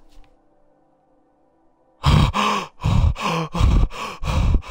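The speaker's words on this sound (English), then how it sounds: "I hear heavy gasping, but..." After a near-silent stretch with a faint background hum, heavy gasping breaths start suddenly and repeat close and loud, about five ragged pants in quick rhythm.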